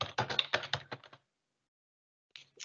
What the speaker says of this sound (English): I'll just type that in here quickly.